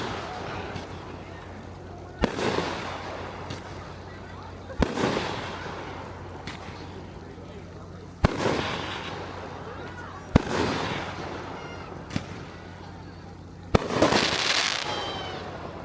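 Fireworks at a 4th of July campground in Centerburg, Ohio, bang in sharp separate blasts every couple of seconds, some followed by crackling bursts, with people talking and reacting between the explosions.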